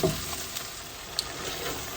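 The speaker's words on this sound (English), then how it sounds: "We'll cook this until the tomatoes get nice and tender." Chopped tomatoes cooking in oil in a large 16-quart All-Clad stainless steel rondelle, a soft steady sizzle with a light scrape or stir near the start.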